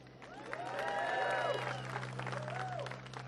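A large crowd applauds and cheers at a presidential campaign launch rally, steady clapping swelling and holding under a low constant hum, with a couple of whistle-like rising tones.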